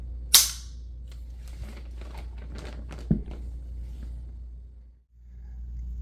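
AR15 rifle being opened on a bench: a sharp metallic snap near the start, then soft handling clicks and a second smaller click mid-way, close and otherwise quiet.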